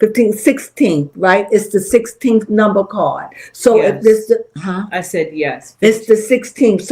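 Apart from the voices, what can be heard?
No distinct noise like a dog, phone or traffic.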